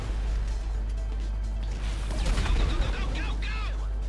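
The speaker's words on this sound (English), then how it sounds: "Who was standing next to the explosion?" Explosions and crashing blasts in Grand Theft Auto V burst in a loud cluster over a continuous low rumble, with people talking over the chaos.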